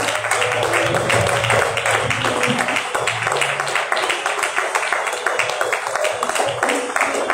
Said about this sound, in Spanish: Y a ti te damos este fuerte aplauso, Señor.